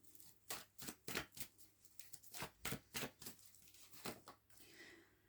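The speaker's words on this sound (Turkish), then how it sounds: "Son bir kart daha çekelim." A tarot deck handled while a card is drawn: quiet, close, rhythmic papery riffling and flicking strokes repeat steadily, about two per second.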